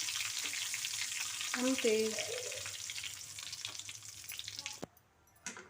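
Curry leaves and a pinch of turmeric sizzle in hot oil for a kobari pachadi, a steady close frying hiss with a brief spoken word partway through before the sizzle cuts out near the end.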